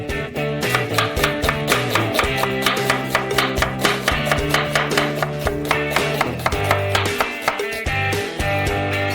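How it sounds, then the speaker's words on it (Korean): Knife chopping onion into small cubes on a board, a fast steady run of sharp, close taps lasting several seconds with no talking. "이제 양파를 작은 큐브로 썰어주세요."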